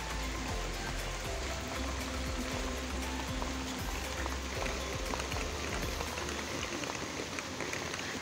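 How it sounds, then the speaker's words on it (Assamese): Rain falls outdoors in a steady, faint wash of patter and trickling water, continuous and fairly distant with no voices. "বৰষুণ দি আছে এইফালে"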